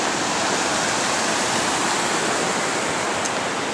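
Steady, loud rushing of a river or creek flowing near Lone Pine, a continuous broadband wash of water heard up close with no voices over it.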